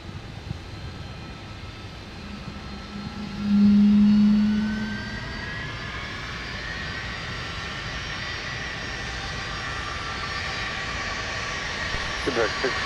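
A jet airliner taxis at Minneapolis–St. Paul airport in winter, its engine whine rising and falling in a steady, fairly distant drone that carries all the way through, with a brief louder thump early on.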